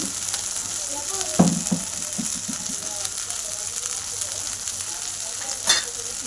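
Bombil and potato curry is stir-fried with a steady sizzle, and a couple of louder scrapes and clatters of a spoon against the pan stand out over it.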